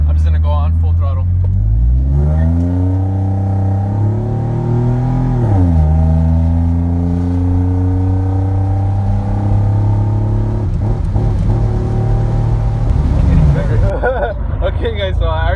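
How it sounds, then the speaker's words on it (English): A V6 truck with a 3-inch exhaust pipe at full throttle, loud engine climbing in pitch through several rising gear pulls with a brief dip between them, close and prominent, with a person talking briefly at the start and near the end. "I'm just gonna go on full throttle."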